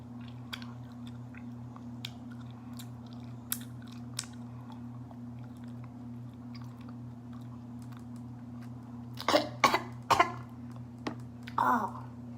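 Raw honeycomb wax being chewed: a few short, wet, crunchy bursts come close together near the end after a long quiet stretch with only a low steady hum.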